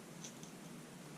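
A 3-inch barbecue skewer is snipped for a mini A6M Zero model build, giving one or two faint, quick cuts over a quiet hiss.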